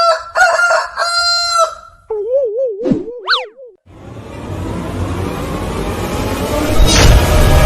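A cartoon-style rooster gives a loud crow in a comic Bhojpuri skit, its rising, wavering call ringing out alone after a springy boing, then giving way to a rushing burst of noise.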